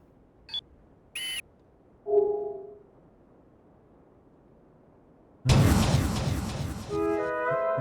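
Sparse electronic beeps from the horror video game Michigan: Report From Hell, a few short tones separated by quiet gaps, followed by a sudden loud burst of noise with ringing tones at the end.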